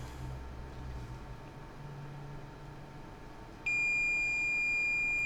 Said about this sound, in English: I'm getting a beep at this little guy down there.